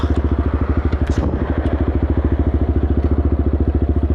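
A Yamaha XT 250 motorcycle idles in neutral close by, its single-cylinder engine thumping in a steady, even rapid beat for the whole stretch with a little mechanical clatter on top.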